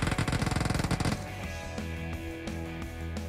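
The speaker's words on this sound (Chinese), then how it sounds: "枪声越来越近，我还是抓紧时间跟队友汇合吧" Rapid burst of automatic gunfire in a shooter video game rattles loudly for about a second, then gives way to steady game music.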